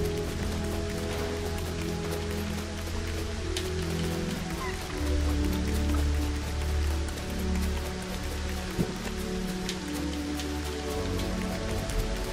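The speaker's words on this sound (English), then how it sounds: "Oh, it's raining." Rain falls steadily in Lego Fortnite, a constant close patter of drops on surfaces over a low hum of game music, with no voices.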